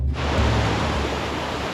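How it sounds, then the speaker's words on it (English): A waterfall at Lake Blanche, Utah, roars as a steady, dense wash of broadband rushing water, loud and close throughout with no break. "I can hear a waterfall, so I'm going to check that out."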